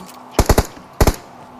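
Gunfire in the mobile battle royale game BGMI: two quick bursts, three sharp shots then two more, loud and close against a quiet background.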